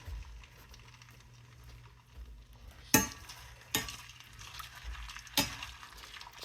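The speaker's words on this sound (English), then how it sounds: "Just put them in the oil until make sure they're bubbling." Potatoes for poutine fry in hot oil on medium-high heat with a soft steady sizzle, broken by three sharp metallic clinks of a utensil against the pot.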